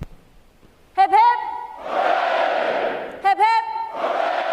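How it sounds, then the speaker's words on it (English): Graduating sailors at a Navy boot camp graduation at Recruit Training Command, Great Lakes, Illinois, roar two loud unison cheers for award recipients. Each cheer follows a shouted call from a single voice, and the sound is full and echoing. "The adjutant will lead all graduating divisions in 3 cheers for this morning's award recipients."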